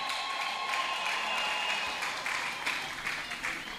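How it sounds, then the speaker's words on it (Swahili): Wedding audience clapping together in church to praise Jesus, a dense steady wash of many hands sustained throughout at moderate distance, with no clear voices rising above it. "Pigie Yesu makofi kabisa"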